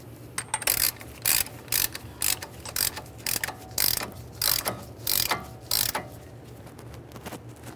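A hand ratchet tightens a Ford Fusion wheel hub nut in a series of loud, rhythmic clicking bursts. Each pull makes a short run of pawl clicks, separated by brief pauses while the handle resets.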